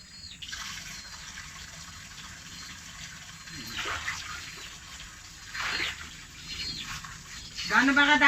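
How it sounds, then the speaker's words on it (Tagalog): Water from a tap fills a casserole pot in a rural kitchen while cooking sinigang, a steady trickling rush with a few louder gushing surges, and people talk faintly in the background. "lalagyan natin ng tubig"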